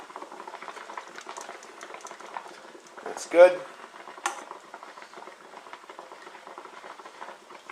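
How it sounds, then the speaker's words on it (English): Eggs cooking in butter in a pan on an alcohol stove give a soft, steady sizzle, broken by a sharp utensil scrape or clink partway through, with someone talking briefly over it. "All right, going to pour the eggs in."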